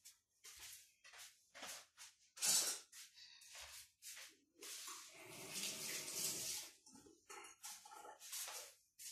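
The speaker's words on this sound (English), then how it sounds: "Gave my hand a quick wash" Hands being rinsed under a running kitchen tap during meal prep with breaded pork, heard as close, intermittent splashing bursts of water that start and stop repeatedly, with no talking.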